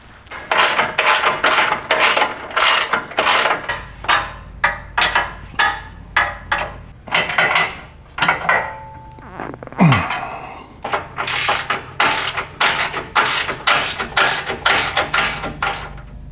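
A ratchet wrench tightens bolts on a gas tank skid plate under a Toyota 4Runner, with quick bursts of rapid clicking repeating in a steady rhythm and a brief pause partway through, close and clear.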